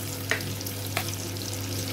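Plenty of onion dropped into a pan with hot oil for pancit bihon: a steady close sizzle with a couple of soft stirring clicks, no voices.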